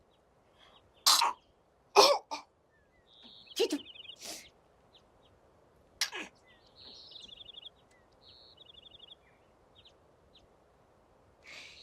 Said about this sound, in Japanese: ちょっと待って。 くしゃみが、